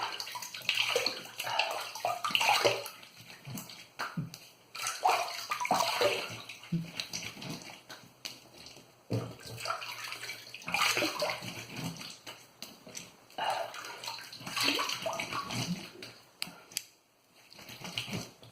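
Running water splashes steadily in a bathroom sink while a face and razor are rinsed after a wet shave with a Maggard MR1 razor. It stays close and continuous for almost twenty seconds, rising and falling as hands move through the stream.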